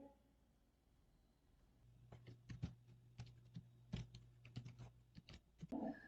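Typing on a computer keyboard while writing in Notepad: quiet, close key clicks in an uneven rhythm, starting after a short pause over a faint low hum, with no voice heard.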